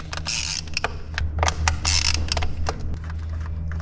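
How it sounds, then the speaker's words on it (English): A ratchet backs out the Torx bolts around the valve cover of a BMW 335i, giving repeated bursts of quick, close mechanical clicking over a steady low hum. "Now we just need to start removing the Torx bits all around the valve cover to take this thing off."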